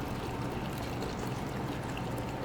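Green apple, kale and matcha juice pours steadily through a fine strainer into a bowl, a continuous soft trickle and splash of liquid heard up close without talk.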